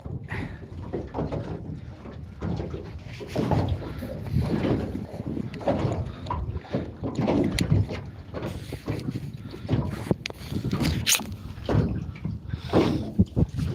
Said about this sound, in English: because it's an aluminium boat, that's why it's noisy